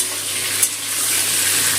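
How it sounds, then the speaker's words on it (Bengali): Steady, close sizzling of pointed gourd frying in hot oil, a continuous crackling hiss with no talking. "পটলটা লাল করে ভেজে নিচ্ছি।"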